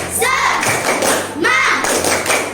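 A classroom of elementary school children and their teacher perform a rhythmic spirit clap chant, loud close claps in quick bursts mixed with shouted voices, dropping briefly before a second burst.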